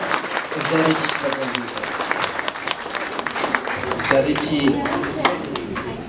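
A wedding crowd claps steadily for several seconds, a dense patter of applause with a voice speaking underneath.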